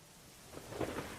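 Rain falling steadily during a July night thunderstorm, with a low rumble of thunder swelling in the second half, alone and without voices.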